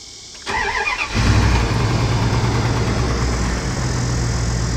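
A cold Chrysler engine with 367,000 miles cranks briefly with a whirring starter, then catches and settles into a loud, steady rumbling idle, heard close up.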